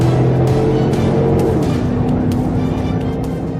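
A vehicle approaches on a road during a high-speed police chase, captured from a police dashcam: a loud, continuous engine and road drone with a steady tone that holds throughout and eases off slightly at the end.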